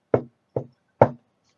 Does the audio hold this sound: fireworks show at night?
no